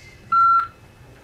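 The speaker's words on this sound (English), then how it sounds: "I'm gonna call the office" A single short telephone keypad tone, a clean steady beep lasting about a quarter second, dialing out to call an office, alone against a quiet background.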